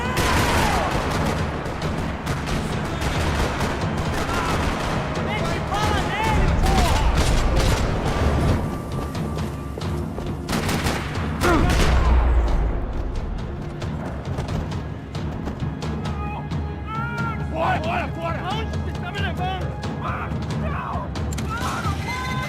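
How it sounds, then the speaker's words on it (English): Bursts of gunfire rattle through a parking lot shootout in the video game Max Payne 3, with rapid volleys, heavy booms and thuds repeating over about twenty seconds amid mechanical clatter and game sound effects. "Another parking lot rattling with gunfire."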